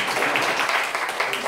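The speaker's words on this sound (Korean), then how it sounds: "다시 한번 박수 부탁드리겠습니다." An audience of teachers at a lecture claps and applauds steadily, a dense patter of hands filling the room for a brief moment.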